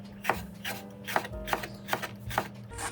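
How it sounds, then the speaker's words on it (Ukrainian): A knife thinly slicing a red pepper on a cutting board, quiet, close strokes in an even rhythm, about two per second. "Нарізаю перець тоненькими слайсами."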